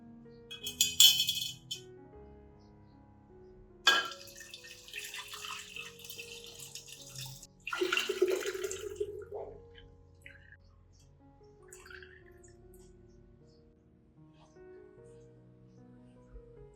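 Rice and garlic water strained through a strainer, pouring and splashing in short bursts near 1, 4 and 8 seconds, with a voice talking between them.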